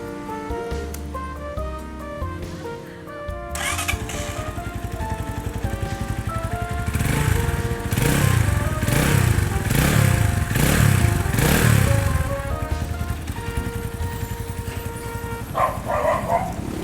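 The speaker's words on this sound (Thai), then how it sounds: "เครื่องยนต์ดีมากนะครับผม" A 2020 Stallion SM150 motorcycle's engine starts after a brief crank and settles into a loud, close, steady idle with slight revving, while a dog barks intermittently in the background.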